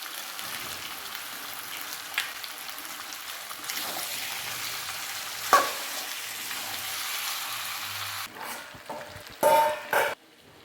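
Tomatoes go into a frying hand-mixed mutton curry, with a continuous moderate sizzle, a few sharp clatters and thuds from the pan, and a brief quieter stretch near the end.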